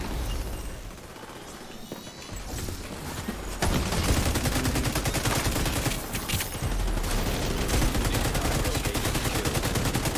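Rapid gunfire crackles in a video game, quieter bursts at first, then loud, sustained automatic fire with dense, evenly spaced shots.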